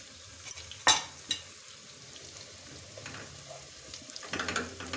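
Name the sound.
ginger garlic paste sizzling in frying pan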